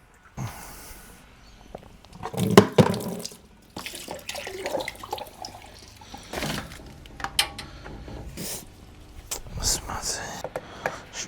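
A tap runs as water is fetched for a 50% aquarium water change, with gushing and splashing into a container heard close by alongside clattering handling noises, no speech.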